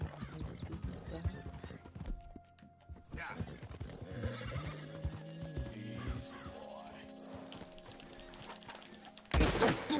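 A horse in Red Dead Redemption 2 whinnies and clip-clops through the game's outdoor sound, with music and a voice over it, ending in a loud burst near the close.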